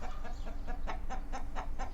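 Chickens cluck repeatedly in short, rhythmic bursts close by on a farm during morning feeding and watering, over a low background rumble.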